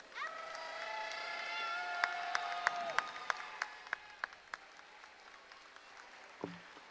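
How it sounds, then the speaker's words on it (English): A crowd applauds senior athletes and their families on senior night at a high school basketball game in the Wildcat Arena, with sustained distant clapping, whistles and cheers, plus a row of sharp, evenly spaced claps near the microphone. "Ladies and gentlemen, once again, a round of applause."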